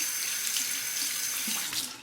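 Steady water running from a bathroom tap into a sink while a razor is rinsed during a wet shave, a continuous close hiss and splash with no talking.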